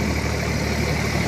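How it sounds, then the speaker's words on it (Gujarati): A tractor engine idles steadily at close range, a continuous low mechanical rumble with no voices over it. "એ ડ્રાઈવર લાલભાઈ ટ્રેક્ટર રાખે છે."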